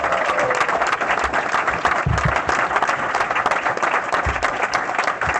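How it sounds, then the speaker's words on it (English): A crowd applauding loudly and continuously, dense clapping filling the room without pause. "How about a big round of applause for what we're..."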